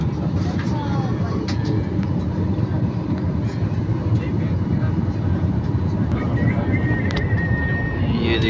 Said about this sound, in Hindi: जहाज़ जा रहा है